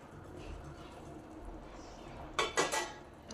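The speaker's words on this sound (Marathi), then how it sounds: "शेंगदाणा आणि तीळ, ते आपण मिक्स करून घेऊयात।" A spoon scrapes and clinks in a pan while peanuts and sesame are stirred into hot chikki mixture: a few soft, quiet stirs, then three sharp metallic clinks close together near the end.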